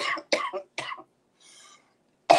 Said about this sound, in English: Coughing, laughing, and choking at the same time.